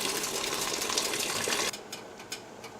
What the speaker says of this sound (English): I'm going to put about 1 liter of water in there.